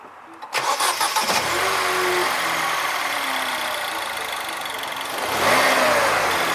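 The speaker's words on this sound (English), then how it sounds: "I am going to be starting the car for the first time" A 2000s MINI Cooper S (R56) engine, after a high-pressure fuel pump replacement, cranks with a rapid starter chatter, catches and settles into a steady loud idle, then revs up briefly near the end.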